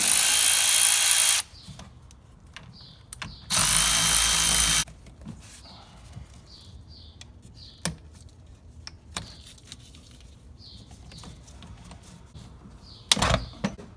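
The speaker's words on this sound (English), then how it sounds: "you're going to loosen up the 8mm or 5/16 hose clamp, both at the airbox and at the throttle body" A handheld power tool whirs in two loud bursts while hose clamps are loosened to remove the intake on a 2014-2018 Silverado/Sierra truck, followed by scattered clicks, taps and clatter of parts being handled.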